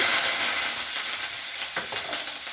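Cumin, mustard seeds and curry leaves fry in hot oil with a steady, close sizzle and soft crackling that stays loud throughout, with no voices over it.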